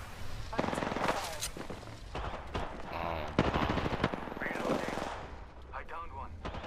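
Gunfire in the video game Apex Legends: rapid automatic bursts and scattered shots crackle over several seconds at moderate loudness, mixed with in-game callouts and voices.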